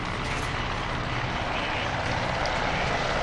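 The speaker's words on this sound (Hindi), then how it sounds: "MI-17 हेलीकॉप्टर्स की फॉर्मेशन" Formation of Mi-17 military helicopters passing overhead at a Pakistan Day flying display, a dense continuous rotor and engine roar that stays loud and steady throughout.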